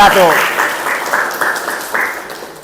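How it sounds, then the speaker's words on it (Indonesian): Class 11 MIPA students clap in a school setting, rhythmic bursts of group clapping at roughly half-second intervals, close and fairly loud, with voices mixed in. "Boleh tepuk tangan untuk kelas 11 MIPA"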